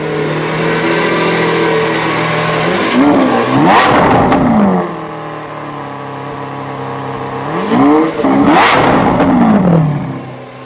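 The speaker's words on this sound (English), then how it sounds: "Let me get a little of that exhaust." A 2017 Lamborghini Aventador S engine revs twice, the exhaust climbing to a loud roar and falling back each time over a steady rumbling idle.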